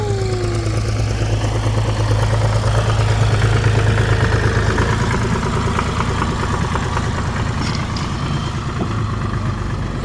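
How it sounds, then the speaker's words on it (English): A tractor engine at a car show, heard as a loud, continuous low rumble that holds steady for about ten seconds as the machine goes by, with no talk over it. "Hey, look, the tractor's coming."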